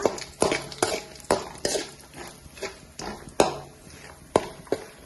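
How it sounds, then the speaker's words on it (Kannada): Crushed cardamom, almonds and coconut are stirred in a pan for a sweet poha dish, with repeated spoon knocks and scrapes against the metal in an irregular rhythm over a faint background sizzle, close by and without talk. "ಯಾಲಕ್ಕಿ ಮತ್ತೆ ಬಾದಾಮಿ ನೋಡ್ರಿ, ಕೊಬ್ಬರಿ ಹಾಕಿ 1 ನಿಮಿಷ ಫ್ರೈ ಮಾಡ್ಕೋತೀನ್ರಿ"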